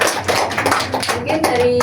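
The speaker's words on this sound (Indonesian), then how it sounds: "Tepuk tangan." Classroom applause after a student group presentation on chemical digestion, hands clapping close and loud in a brief burst, mixed with children's voices talking.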